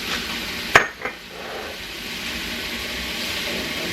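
A chili dog casserole mixture is stirred in a hot pan, with a sharp scrape of the spoon against the metal near the start, then a steady sizzle that carries on to the end.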